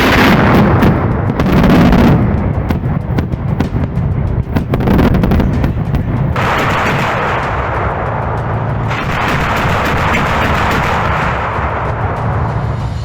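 A Russian BMPT Terminator fire-support vehicle fires its guns, grenade launchers and missiles together, a dense loud barrage of rapid blasts and booming reports that rolls on continuously with no voices.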